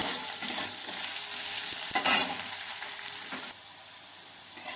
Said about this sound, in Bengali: উচ্ছেটা আমি পুরো ভাজবো না, হাফ ভেজে নেব